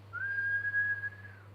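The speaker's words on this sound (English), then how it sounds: "the station master blew his whistle" A station master blows his whistle at a railway station: one clear, steady, high-pitched blast lasting just over a second, rising slightly at the start and fading at the end, heard alone over a low hum.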